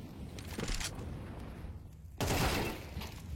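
Bursts of gunfire during a competitive tactical shooter esports match, Eternal Fire versus Basement Boys: a cluster of shots early, then a louder, denser volley near the end, close and sharp with no talk over it.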